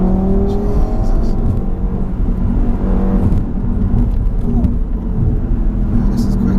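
Stage 1 tuned Audi RS3 with about 424 bhp, loud sustained engine drone with rising revs as it accelerates from inside the car, steady and close throughout.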